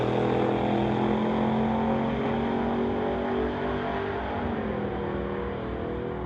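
Street-legal drag racing trucks roar down the strip at a MOPAC event, a loud, sustained engine drone with a shifting pitch as they accelerate, filling the whole stretch without any talk.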